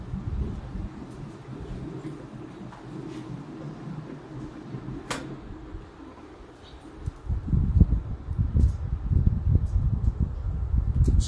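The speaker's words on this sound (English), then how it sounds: "It's gotten very windy here." Wind gusts outdoors around a table where a cigar is being smoked, a low rumbling buffeting on the microphone that grows rougher and louder in the second half, with a few faint clicks and rustles.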